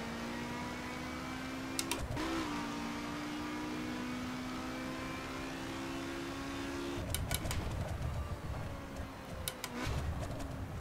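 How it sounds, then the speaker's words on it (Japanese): A steady high engine-braking whine from a car in The Crew racing game on a highway holds for several seconds, then a rougher revving engine takes over, with brief sharp clicks scattered throughout. "ヒューンっていう音するねこれがエンジンブレーキか"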